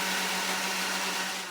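A blender whirs steadily at full speed, blending hot sauce, salt and cayenne as the base for hollandaise, a loud continuous motor drone with a low hum that slightly fades at the end.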